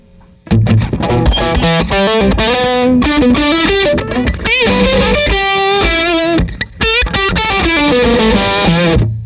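An electric guitar plays through a distortion pedal, a loud, saturated, buzzing tone carrying a run of sustained notes and chords that shift in pitch throughout.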